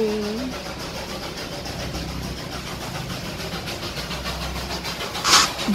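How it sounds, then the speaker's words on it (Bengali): A Darjeeling steam-engine toy train gives a steady rumbling chug with faint rhythmic pulses and a sharp burst of hiss near the end. "3 নম্বর টয় ট্রেন, এটা আবার স্টিম ইঞ্জিনের।"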